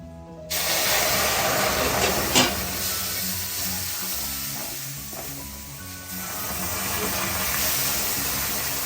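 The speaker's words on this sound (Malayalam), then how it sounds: "ഇതിലേക്ക് തളിച്ച വെള്ളം ഒഴിച്ചു കൊടുക്കാം." Water poured into a hot pan of roasted semolina with sesame seeds for Kasaragod-style rava kesari, giving a loud continuous sizzle and hiss that bursts on at once and holds steady with stirring scrapes, without talk.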